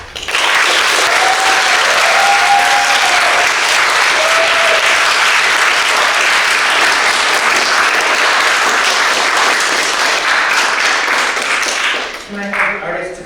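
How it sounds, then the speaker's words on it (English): Loud, dense applause from an arts event audience for the performing artists, steady for about twelve seconds before fading, with a few faint tones sounding briefly through it. "Can I have the artists to come up just for another round of applause from everybody?"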